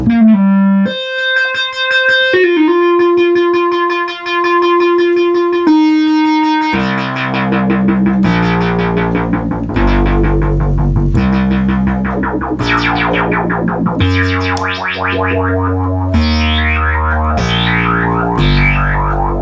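A Minimoog synthesizer with its filter being closed plays sustained buzzy notes, then a run of punchy, distorted melodic tones with strong bass, loud and upfront with no voices.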